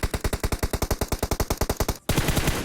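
Rapid automatic gunfire from PUBG Mobile rattles in a steady burst of about twenty loud close shots, then cuts to a noisy wash of game sound.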